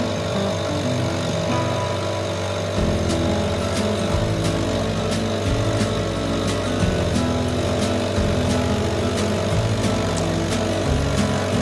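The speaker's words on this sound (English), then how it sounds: "The red oak really takes the zip out of the bandsaw blades" A Woodmizer LX25 bandsaw mill cuts a very large red oak log with a half-worn blade, giving a loud, continuous engine drone whose pitch shifts in steps as the cut loads and eases. No talk is heard.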